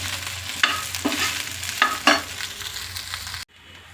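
Okra being stir-fried in a pan, a steady sizzle with a few sharper scraping stirs spaced through it, fairly close, ending abruptly near the finish.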